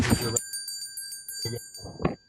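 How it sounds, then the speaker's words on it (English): A single timer bell rings at a 2021 environmental forum to signal that time is up, a clear ding that lingers faintly while people talk around it. "then a second bell when your time is up"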